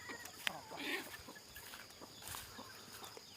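Chickens cluck faintly inside a chicken coop on a rural farm, soft scattered clucks over a noisy background.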